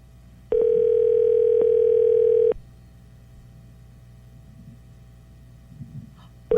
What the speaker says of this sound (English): All right, I'm dialing his number.